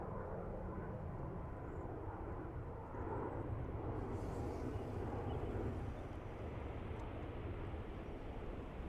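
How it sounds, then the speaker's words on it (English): A Ryanair airliner lands at Dublin Airport, heard as a steady, distant jet-engine roar that holds low and even throughout with faint rumbling texture. "Nice soft landing from Ryanair."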